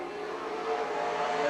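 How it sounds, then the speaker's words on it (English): A stock race car at Golden Sands Speedway in Wisconsin Rapids accelerates hard out of a turn, its engine a steady, fairly distant roar that swells slightly as it pulls away. "Nitschke hard on the gas out of turn number 2."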